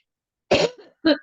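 Two harsh coughs, close and loud, separated by a brief pause, with a small throat noise between them.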